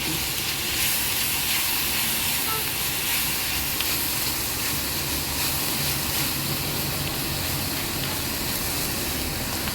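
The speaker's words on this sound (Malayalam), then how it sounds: "ഇതിനിപ്പോൾ ഒന്ന് മൂടി തുറന്ന് നമുക്ക് ഒന്നും കൂടെ ഒന്ന് ഇളക്കണം" Cabbage (the violet variety) cooking in a covered pan gives off a steady, close hiss of steam and sizzle that runs unbroken throughout, with no voices over it.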